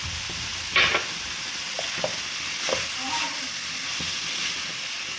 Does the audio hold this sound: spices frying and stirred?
yes